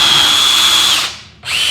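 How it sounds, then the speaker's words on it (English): A power drill bores into an MDF panel while a bathroom upper cabinet is being built. The close, loud whine is steady for about a second, then drops briefly and spins up again. Nobody speaks. "I'm going to drill into MDF to show you how it is a little more difficult"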